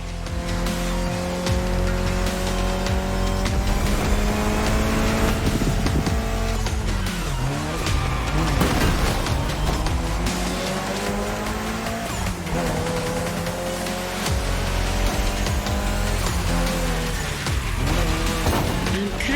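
Mitsubishi Lancer Evolution racing in The Crew Motorfest, its engine droning loud and steady through rising and falling gear pitches, with tire squeal and skidding through corners, no voices.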